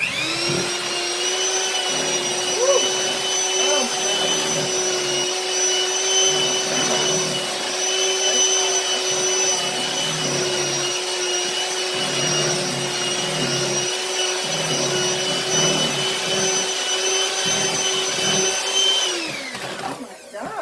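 An electric mixer beats powdered sugar into buttercream icing for an almond cake, a loud, steady whirring hum that runs close up for about twenty seconds before winding down at the end.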